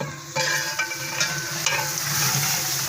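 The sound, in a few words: chicken karahi being stir-fried and roasted in a pan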